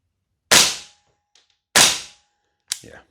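Salvo Precision SURG MWS gas blowback airsoft rifle firing two sharp, close single shots about a second apart, then a third cut-short report with a mechanical clack.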